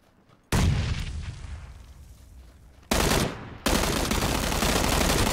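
Video game combat with a grenade blast and gunfire: a sudden loud explosion that decays slowly, then another sharp burst and a dense, continuous roar of firing, all loud and close.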